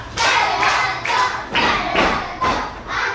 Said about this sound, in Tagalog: bigyan natin siya ng magaling na palakpak